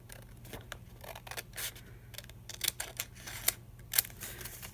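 Scissors cutting paper for a budget journal spread: several short, crisp snips scattered over a few seconds, close and fairly quiet, growing sharper toward the end, with no talk.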